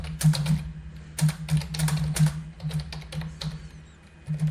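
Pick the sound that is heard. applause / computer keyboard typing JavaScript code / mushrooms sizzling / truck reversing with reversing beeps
computer keyboard typing JavaScript code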